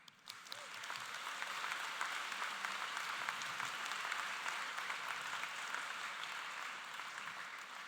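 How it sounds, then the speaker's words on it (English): Sustained applause from a large crowd at a high school graduation ceremony, a dense even wash of clapping that swells after a quick start and holds steady to the end. "There's going to be a lot of clapping here."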